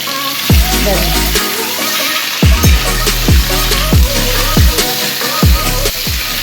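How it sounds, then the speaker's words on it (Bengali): Raw chicken frying in a pot for stew, a steady close sizzle broken by a series of loud stirring knocks and scrapes at regular intervals. "আর চিকেনটা একদম কাঁচা দেওয়া যায় না, এর মধ্যে দিয়ে দিচ্ছি একটু নেড়ে।"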